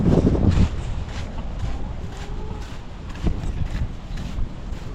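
Steady, loud wind buffets the microphone in a continuous rumbling roar, with gusts rising and falling and faint rattling underneath.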